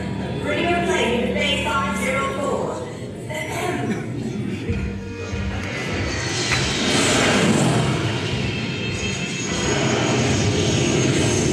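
An aircraft from Robotech: The Macross Saga approaches for landing, its engine roaring loudly and steadily throughout, with radio-style voices talking over it.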